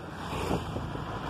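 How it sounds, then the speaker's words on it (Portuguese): Wind buffeting the microphone while recording outdoors along a farm's main road, a continuous loud rumbling roar with no talking. "barulhinho aí, Jafana, é do vento."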